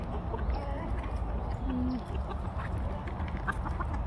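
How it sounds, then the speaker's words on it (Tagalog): Free-range chickens clucking softly in the background amid steady outdoor noise, with a short call rising briefly midway. "So yung mga manok ko dito"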